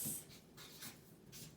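Quick marker or pen strokes on paper, several short scratchy bursts close by, with no talking.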